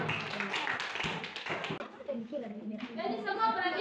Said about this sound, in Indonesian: Oke, tepuk tangan untuk kelompok 3.